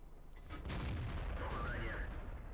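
A tank cannon firing in the World of Tanks video game, a Panther or SU-85B, with a sharp broadband blast around the half-second mark followed by a sustained rumbling roar and a second report, loud and close, with no talk.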